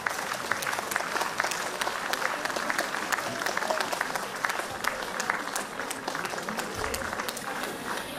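A crowd gives steady, moderately distant applause at a school's September 1 first-day ceremony, where graduates hand paper planes to first-graders; the clapping runs evenly for about eight seconds with no speech.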